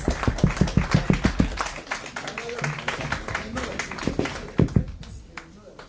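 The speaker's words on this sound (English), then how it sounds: "Everyone, can we have a huge round of applause?" An audience at a business conclave claps in a burst of distinct, fairly close hand claps that thin into scattered claps and then swell again briefly, with a crowd murmuring underneath.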